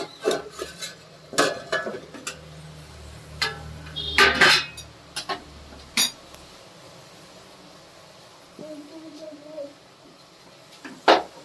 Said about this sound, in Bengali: এবার ঢাকনাটা খুলে দেখব পনিরটা কিরকম জমেছে।